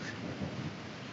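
A rumbling roll of thunder during an old-fashioned thunderstorm, heard outdoors under an overhang with steady rain falling throughout, a low continuous grumble rather than a sharp crack.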